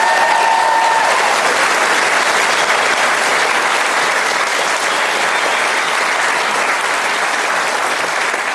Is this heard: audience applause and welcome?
yes